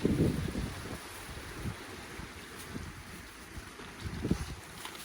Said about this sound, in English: here comes the wind now